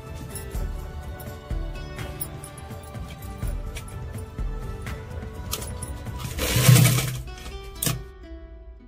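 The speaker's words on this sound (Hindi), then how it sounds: "हम इसको ऐसे स्टिच लगाते चले जाएंगे" Sewing machine stitching the sleeve of a baby frock, its needle running in a steady close whir with small rises and pauses as the fabric is guided, no voices.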